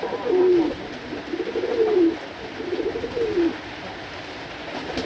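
Domestic pigeons in a breeding loft coo in three soft, close, rounded phrases spaced about a second apart, each a low throaty warble, over quiet background hiss with no talking.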